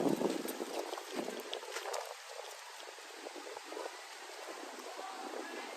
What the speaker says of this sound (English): It's windy out here, man.